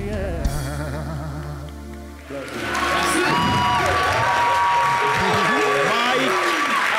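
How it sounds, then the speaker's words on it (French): A television studio audience applauds and cheers with whoops after the guests are welcomed onto the set, the clapping swelling and sustained, while a presenter talks over the first moments. "Merci de les applaudir encore une fois."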